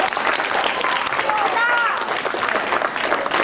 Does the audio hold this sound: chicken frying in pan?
no